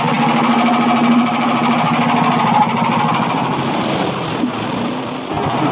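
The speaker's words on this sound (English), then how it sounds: "what he's actually doing is he's letting the saw down half-inch increments" Hudson Patriot sawmill blade lowered in half-inch steps to cut a log into siding: a continuous loud engine-and-blade roar, near and steady, tapering slightly toward the end with no talk.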